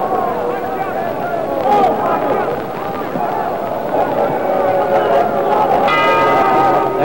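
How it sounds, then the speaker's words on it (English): A boxing bell rings to end round four at a 1964 New York bout, its metallic tones ringing out amid loud, steady crowd noise and an announcer talking throughout. "There's the bell ending round 4."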